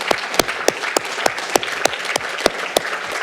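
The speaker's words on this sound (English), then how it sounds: "give them a big round of applause" Sparse applause for university faculty at a 2013 graduate awards ceremony, with distinct sharp claps standing out rhythmically over a steady wash of clapping from the crowd, moderately close.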